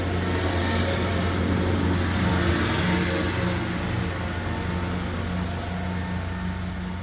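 A passing tractor's engine drones loudly and continuously nearby, a steady mechanical hum that fades slightly toward the end.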